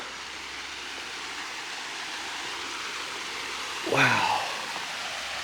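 An Ozarks trail stream gives a steady, close rush of flowing water throughout, with a person's brief exclaimed word rising over it near the end.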